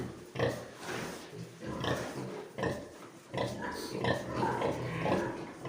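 Eight-day-old piglets grunt and squeal in a busy, continuous jumble close by, with a voice faintly mixed in.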